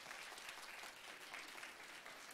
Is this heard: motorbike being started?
no